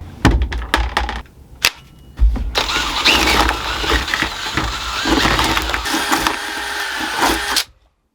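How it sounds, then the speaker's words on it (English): A power tool whisk from a shed whirs loudly as it mixes cupcake batter, starting after a few knocks and clatters and running steadily for about five seconds before cutting off abruptly. "I found this really handy whisk in my shed, so I'm gonna use this one"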